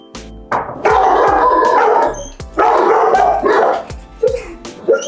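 Several dogs bark loudly in overlapping bursts, a near, busy chorus of repeated barks with short pauses between volleys.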